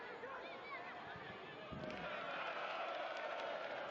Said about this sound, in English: Look at that massive cheer from that Malawian supporting contingent on the opposite side of the ground